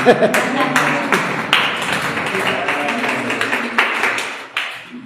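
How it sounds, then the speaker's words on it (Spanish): Applause breaks out at a parish catechesis session, a group clapping with sharp individual claps heard up close. Voices and murmuring run underneath, and the clapping rises and falls in uneven bursts. "Damos un fuerte aplauso si se anima."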